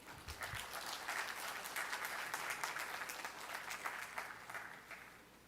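At a public board meeting, an audience applauds after the CEO's speech: a sustained, even patter of many hands clapping, fairly faint and distant, with no one talking over it.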